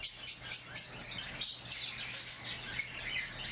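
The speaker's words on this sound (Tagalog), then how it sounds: "update na po natin to, mga ibon dito sa ibonan natin" Pet birds, green opaline birds, chirp in an aviary, a busy mix of many faint high tweets overlapping continuously, with a low steady hum underneath.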